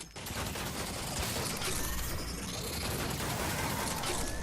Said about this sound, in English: And this is how fast I can shoot with the fire rate bonus.